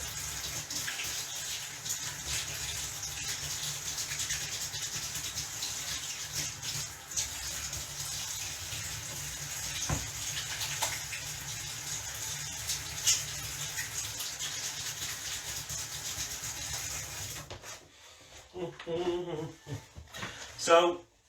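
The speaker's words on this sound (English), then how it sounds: "I'm just going to wash my hands again" Hands are washed under a running kitchen tap: a steady, close hiss of flowing water for about seventeen seconds, then it shuts off, followed by a few clattering sounds and a voice.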